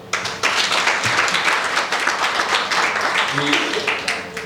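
An audience at a Cameroonian youth event in a hotel breaks into dense, lively applause that continues steadily, with voices mixed in beneath the clapping.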